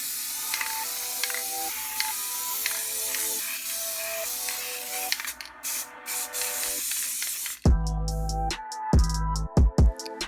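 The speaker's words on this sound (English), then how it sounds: "And then I moved on into adding my clear coat to the entire mask." Clear coat sprayed from a can over a painted hockey mask, giving a steady close aerosol hiss in several bursts with brief pauses. A soft tonal background runs underneath, and there is no speech.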